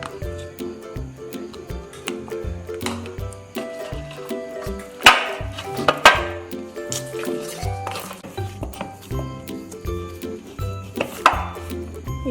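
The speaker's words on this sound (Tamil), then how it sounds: "இனி கொஞ்சம் நெய் விட்டு அதை பிசைஞ்சு எடுத்துக்கோங்க." Chapati dough is kneaded by hand with ghee, making wet squishing and slapping sounds in irregular bursts, close and fairly loud over steady background tones.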